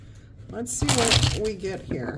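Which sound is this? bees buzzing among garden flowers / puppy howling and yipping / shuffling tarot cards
shuffling tarot cards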